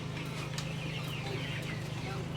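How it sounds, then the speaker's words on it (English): Chickens on a spring homestead clucking near their coop, soft scattered clucks over a steady low hum, faint and somewhat distant. "after some chicken education for Hannah, that is the coop where we'll keep them at night"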